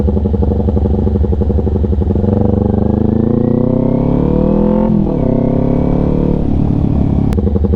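A motorcycle downshifting at low speed through a wooded area, close and loud, its engine note rising and falling with gear changes and a sharp dip midway.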